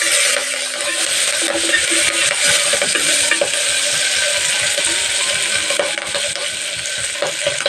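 Ginger pieces, green chili and curry leaves fry in ghee, making a loud, continuous hissing sizzle with crackles and repeated scraping clicks from stirring throughout.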